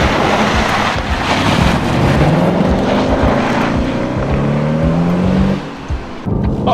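A Jaguar XF V6 pulls hard on winding roads, its steady engine drone rising in pitch as it accelerates, then easing off near the end, with wind rush throughout.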